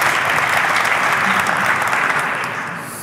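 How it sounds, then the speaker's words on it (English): Dense, steady audience applause for panelists at a European fintech funding conference, a loud continuous wash of many hands clapping that tapers off slightly toward the end. "I think we should give a quick applause to the panelists at this late stage of the day."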